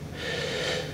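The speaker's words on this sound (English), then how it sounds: "This is the breathing of the rat, and you can see ratty breaths, they stop, then some odd ventilation comes back." In a recorded lab experiment, a rat breathes irregularly after a head injury, one drawn-out, raspy gasp of air heard up close.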